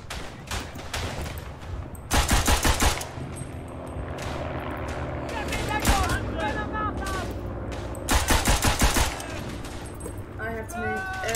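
Repeated bursts of gunfire from the World War I video game Verdun, set at the Battle of the Somme: rapid volleys crackle in clusters with distant booms between them, while faint voices murmur in the background.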